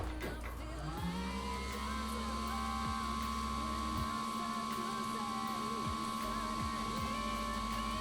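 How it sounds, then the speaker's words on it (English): Small cooling fans on aftermarket LED headlight and fog light bulbs whirring steadily with a constant high-pitched electric whine, close up and continuous, with a few faint clicks and some quiet talk in the background. "Check out how loud these fans are."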